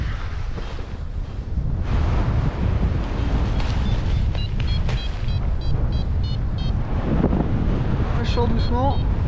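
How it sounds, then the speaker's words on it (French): Strong, steady wind buffets the microphone at a mountain paragliding launch site in the Alps during summer, a constant loud roar with rumbling gusts throughout. "Mais là, il y a trop de vent."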